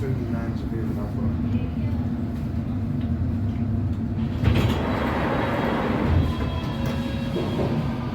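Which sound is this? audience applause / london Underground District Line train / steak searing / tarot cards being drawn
london Underground District Line train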